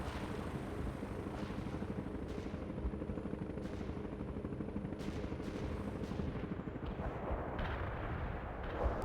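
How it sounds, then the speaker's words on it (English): Artillery barrage in the video game World in Conflict: continuous dense rumbling explosions and rapid impacts over steady battlefield noise, loud and sustained throughout. "Our barrage hit the target."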